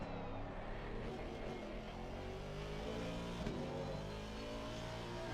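Race car engine in a sim racing game at Laguna Seca, droning steadily with harmonic tones and a brief revving surge from a downshift midway, loud and continuous throughout.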